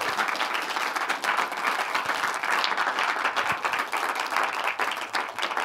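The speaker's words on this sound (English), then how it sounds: "A big round of applause again for presenting the film" Steady, dense applause from a festival cinema audience after a documentary screening at DOK.fest 2024, many hands clapping evenly and close for several seconds, with no talk over it.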